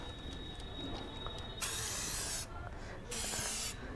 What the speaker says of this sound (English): So let me spray this particular rat spray.